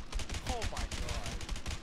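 Gunfire in the prison-break game A Way Out, a quick run of rapid, evenly spaced shots firing steadily for about two seconds at moderate loudness.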